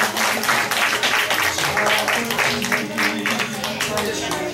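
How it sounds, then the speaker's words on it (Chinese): An audience at a community performance and award ceremony claps in a steady, lively burst of applause, with a voice talking over it. "请大家掌声鼓励"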